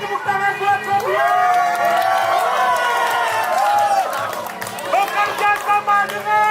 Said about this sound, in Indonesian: Beri tepuk tangan buat Sofia.